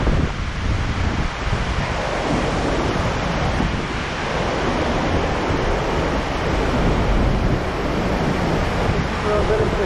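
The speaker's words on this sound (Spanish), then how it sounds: "Estamos en otra parte de la cachoeira de Buracao." Buracão waterfall in a canyon in Chapada Diamantina, Brazil, a constant roaring rush of falling water mixed with wind buffeting the microphone, with a voice talking over it.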